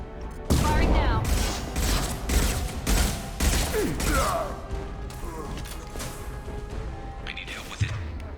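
Rapid bursts of gunfire echo through a busy video game battle, with dense clatter and crashing impacts over a constant loud mix, plus a few brief whooshing effects.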